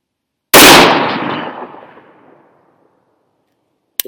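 A single loud 6.5 Creedmoor rifle shot fired at a steel target: a sharp, close crack followed by a long, fading echo, then silence and a faint click.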